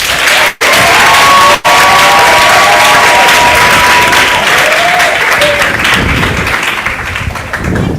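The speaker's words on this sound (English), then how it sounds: "please give a round of applause for Motherwell High School" Sustained audience applause for Motherwell High School at a maritime open day, dense steady clapping from a crowd lasting the whole stretch with a faint whistle or cheer in the middle, loud and close.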